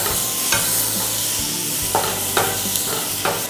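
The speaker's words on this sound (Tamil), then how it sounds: "இந்த மாதிரி கலர் மாறினதுக்கப்புறம் இந்த தக்காளி இதில் சேர்த்துக்கலாம்." Onions and tomatoes sizzle in a pan over a steady frying hiss, while a spoon scrapes and stirs in several distinct strokes roughly every second, close and clear with no talking.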